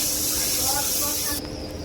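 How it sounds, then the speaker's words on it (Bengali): Water poured onto frying spices for a beef curry sets off a loud, steady steam hiss that holds for over a second, then drops suddenly to a quieter simmer. "হালকা ভাজা হয়ে গেছে এখন একটু পানি দিয়ে দিব মশলা কষানোর জন্য"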